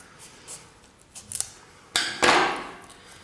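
Scissors cutting fabric for a sewing project, a bag: a few light snips followed by a louder, longer slicing cut, close up with quiet room noise and no talking.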